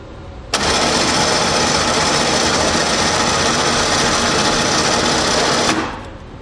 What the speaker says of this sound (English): I'll show you how the winch works. In this particular case, we're using the remote.